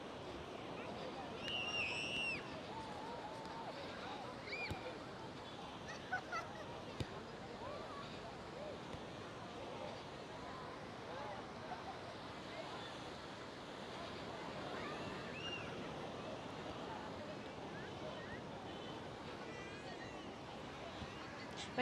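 Gentle waves washing onto Kuta beach in Bali at sunset, a soft continuous hiss of surf with distant beach chatter and faint calls, heard from a short distance.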